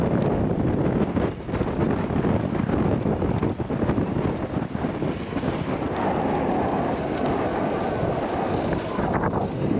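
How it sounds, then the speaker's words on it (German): Strong wind roars and buffets the microphone nonstop at about 1400 metres altitude near Nauders in the Alps, a loud rumbling gust noise that never lets up. "Sehr windig."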